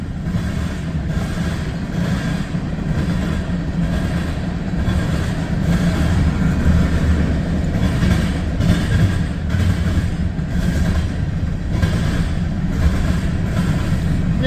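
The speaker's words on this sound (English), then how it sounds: "Pretty big train also, it appears." A big CSX freight train rolls past at night through high wind and rain, a steady loud low rumble of rail cars lasting the whole time, with no voices over it.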